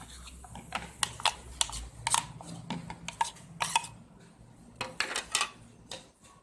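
Bread cutlet ingredients of potato, carrot, coriander, onion, mashed peas and chaat masala being mixed in a bowl make a series of sharp clinks and taps at irregular intervals, close and moderately loud, with no talk.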